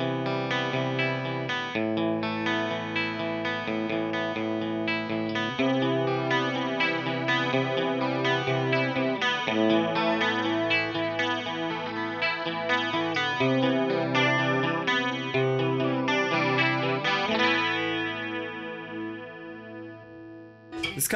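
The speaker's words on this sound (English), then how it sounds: "It's kind of a thick chorus sound" Electric guitar chords strummed through a swirling, thick flanger effect, sustained for a long stretch before fading out, with no voices.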